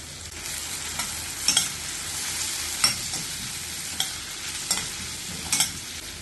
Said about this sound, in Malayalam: ഒരു മീഡിയം സൈസ് ക്യാരറ്റിന്റെ പകുതി ചെറുതായി മുറിച്ചതും കുറച്ച് ബീൻസ് ചെറുതായി മുറിച്ചതും ചേർത്ത് വഴറ്റാം